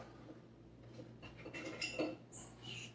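Turkey meatball mixture being worked in a bowl, soft close-up clinks and scrapes of a utensil against the dish at a low level.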